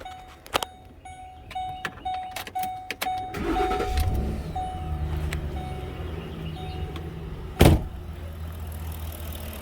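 A few sharp clicks and a thud, then a car engine with a suspected knocking fault cranks and catches, settling into a low steady idle with a loud knock partway through.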